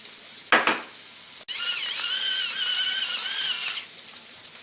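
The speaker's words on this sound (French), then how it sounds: "Donc je fais revenir mon avocat" Avocado and a little onion sautéing in melted butter in a pan, giving a steady, close sizzle that swells after a brief scrape and continues for several seconds before easing off.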